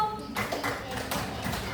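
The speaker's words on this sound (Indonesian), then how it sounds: "Tepuk tangan untuk Alma" Schoolchildren in a grade five primary classroom clap for a classmate, a few short bursts of hand claps mixed with the teacher's and children's voices.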